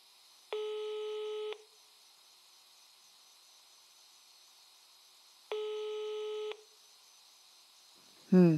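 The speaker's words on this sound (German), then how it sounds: "Scheint keiner ans Telefon zu gehen." Two long ringback tones sound through a phone line with a long silent gap between them as the call goes unanswered, then a voice briefly starts speaking.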